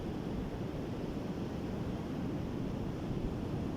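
Sea waves roll in a continuous, dense wash of surf, steady and fairly loud with a windy rumble underneath and no voices.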